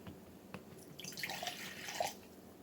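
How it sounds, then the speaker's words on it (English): Half a cup of water is poured into a bowl, a faint, brief trickling splash that swells for about a second and then stops, with no talking. "In here, you want to pour 1/2 cup of water"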